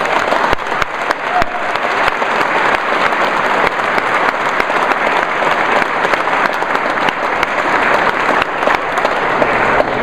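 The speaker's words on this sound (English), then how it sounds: "Could you give these guys a round of applause?" A crowd at a Tulane press conference introducing Curtis Johnson as the new football head coach gives a loud, sustained round of applause, dense and even throughout.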